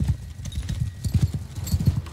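Horses gallop in a medieval battle in Mount & Blade II: Bannerlord, a dense run of low, rapid hoofbeats with a faint whinny, loud and close with no talk over them.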